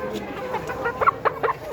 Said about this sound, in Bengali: এই একটা মুরগি আপনাদের কাছে লাইভে আমি উঠাচ্ছি